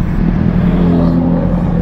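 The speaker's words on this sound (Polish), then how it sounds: "Auta jadą." Cars roll past on a road, making a brief, loud, low engine and tyre rumble that stays steady for a couple of seconds.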